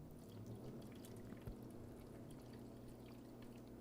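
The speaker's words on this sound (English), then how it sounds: "Pour another glass of the water." Water is poured from a glass into a roasting pan of Pugliese-style eggplant, a steady low splashing pour lasting several seconds, faint and close with a brief louder splash midway and no talk.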